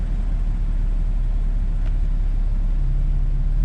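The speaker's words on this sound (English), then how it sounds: "It definitely sounds a lot more throaty, and a lot of people prefer the sound." Porsche Cayman S 987.2 with a 3.4 litre engine and its sports exhaust switched on, idling with a steady, deep low rumble throughout and no talk.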